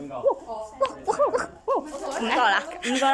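A person imitates a dog, giving several short, rising woof-like yelps in quick succession, followed by laughter and chatter from others nearby.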